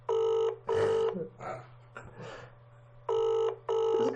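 An outgoing telephone call rings back in repeated tonal bursts, clear and steady, with people talking between the rings.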